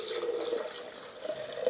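Tap water runs steadily into a sink while something is rinsed clean during almond milk preparation, a soft continuous splashing stream with no voices.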